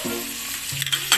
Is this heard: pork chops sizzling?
yes